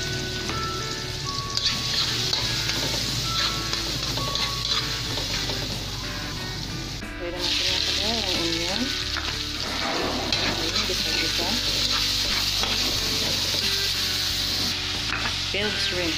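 Garlic sizzling in hot oil in a home kitchen while making Chinese fresh lumpia, a steady dense crackle filling the clip with a faint musical tone running underneath.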